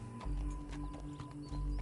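Horse hooves clip-clopping across ground in Red Dead Redemption 2, a steady, close, fairly quiet gait under a constant low game hum.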